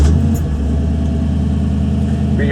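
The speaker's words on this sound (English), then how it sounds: "As we start the car," Engine of a 1966 Ford Mustang Fastback Shelby GT350H clone with a K-code engine, heard as a loud, close, steady rumble as it runs after starting, with no talk over it.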